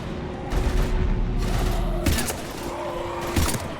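Gunfire in the Mass Effect 3 video game, shooting at husks in a combat scene: a sustained volley of rapid shots and booms fills the clip loudly, with a steady electronic tone running underneath and no talking.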